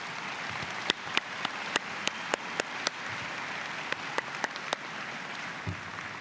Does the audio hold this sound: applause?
yes